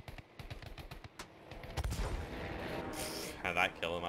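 Aircraft cannons fire in Battlefield 5 as rapid bursts of automatic gunfire, growing denser and louder through the clip amid game engine noise, with a player talking over parts of it.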